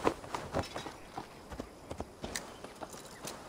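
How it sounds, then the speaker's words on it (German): Horse hooves clip-clopping in Assassin's Creed Valhalla, a steady run of game-audio hoofbeats at moderate loudness with no talk over them. "Wo ist mein Pferd? Da ist mein Pferd."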